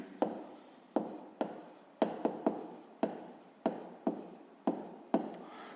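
A pen writes numbers onto paper for a fifth-grade maths exercise, making a run of about a dozen crisp, evenly spaced strokes and taps, close and quiet, with no talking.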